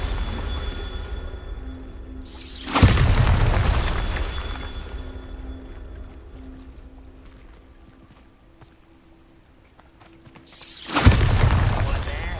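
Two loud magical blasts from the Bombarda spell in Hogwarts Legacy burst out a few seconds apart, each a sharp explosive boom that rumbles and fades over a low ambient hum.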